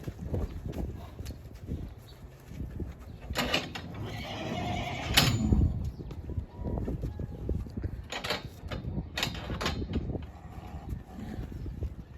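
A horse whinnies a few times amid soft hoof shuffles and clinking tack, fairly close.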